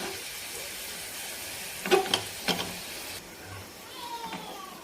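Kashmiri chili powder hits hot garlic oil for a garlic tadka over dal palak, with the flame off, giving a short close sizzle that flares and fades over a soft background hiss.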